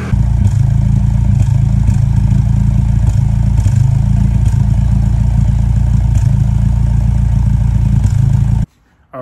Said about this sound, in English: the car actually idled decent for what it was